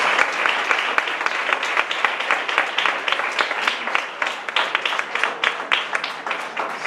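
A church congregation applauds during a Palm Sunday sermon, a dense, sustained patter of many hands clapping at steady loudness for several seconds, with a faint voice underneath.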